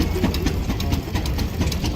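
An antique International 816 tractor from the late 1910s to early 1920s, running at a steam threshers reunion, putters with a fast, even, chugging pulse, fairly loud and close, with no talking.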